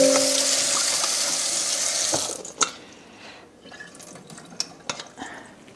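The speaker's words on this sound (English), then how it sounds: "So I'm going to go ahead and rinse those." Tap water runs steadily as food is rinsed at a kitchen sink, then cuts off, leaving a few scattered drips and small splashes.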